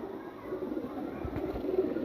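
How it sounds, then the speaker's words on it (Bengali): Pigeons, a male and a female held in the hands, give soft low cooing over a steady background hum, fairly close and quiet. "বাম হাতেরটা আমার নর কবুতর ডান হাতেরটা মাদি কবুতর"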